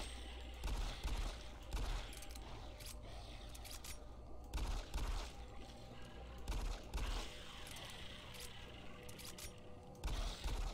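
Pistol shots crack out in Doom 3: BFG Edition, several sharp, loud reports spaced irregularly across the stretch over dim mechanical game ambience.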